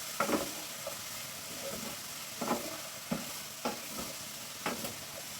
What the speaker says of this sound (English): Now ready to add beetroot. Straight into the pot. Give a good stir, about 2 minutes.